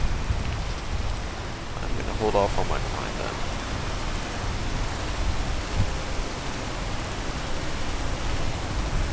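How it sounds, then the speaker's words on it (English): Rain falls in a tropical area of the video game Peak as a steady, soft hiss that runs the whole time beneath a person talking. "Oh, and it is raining."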